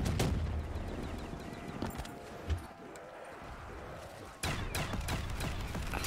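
Pack-a-Punched Spaz shotgun in Black Ops 3 Zombies, fired in bursts of dense, sharp blasts with a short lull before another volley, loud and close, mixed with game noise.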